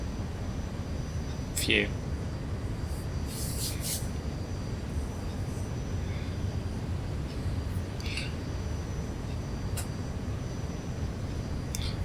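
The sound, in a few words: airplane taking off in X-Plane flight simulator video game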